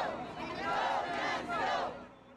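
A crowd on San Antonio's south side at an immigration reform rally cheers and shouts in welcome, a loud swelling chorus of many voices.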